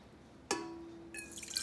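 Warmed milk poured into a bowl for cheese bread dough, a sudden splash settling into a steady trickling pour with a ringing tone, close and fairly quiet.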